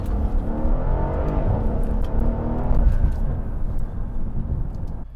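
Mercedes-AMG SL63 convertible accelerating hard in race mode, a loud, sustained engine roar climbing in pitch, heard from inside the car with a steady rush of road noise.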